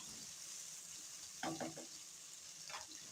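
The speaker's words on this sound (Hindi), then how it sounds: "लहसुन अदरक को भी हमने फ्राई करना है" A quiet steady sizzle of garlic and ginger frying in a pan, with a couple of faint stirring scrapes.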